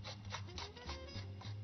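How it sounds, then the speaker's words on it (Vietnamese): Daikon radish rubbed against a grater in a kitchen, a steady close scraping with quick rhythmic strokes over a low background hum, no talk. "Đây, chúng ta sẽ mài củ cải."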